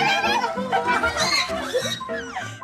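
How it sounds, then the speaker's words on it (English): Pigs being put into a new pen squeal and grunt in a short, busy burst, close and fairly loud, with laughter mixed in. "After a bit of squealing, they eventually give in. The pigs, that is."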